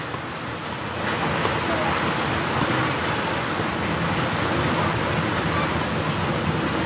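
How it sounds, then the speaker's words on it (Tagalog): Heavy rain pours down in a dense, constant roar, picking up after the first second and staying steady throughout. "Lakas ang ulan"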